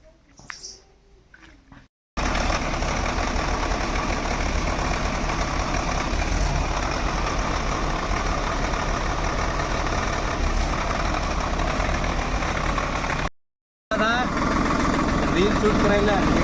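A Swaraj 742 tractor with white-painted tyres runs its engine, a steady loud diesel rumble sustained close by for over ten seconds after a quiet start, with one brief break in the sound.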